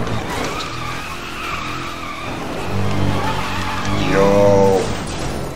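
Cars in Need for Speed Most Wanted drift and skid with loud, sustained tire squeal over revving engines, building louder toward the end, while someone shouts excitedly in the background.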